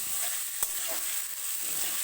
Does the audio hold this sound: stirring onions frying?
yes